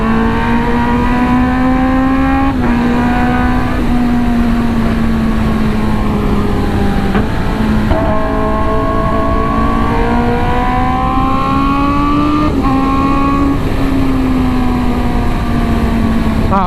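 A Kawasaki ZX10R motorcycle accelerating on a wet Jakarta street, engine loud and close throughout, with rising pitch sweeps between gear changes and steady wind and road roar.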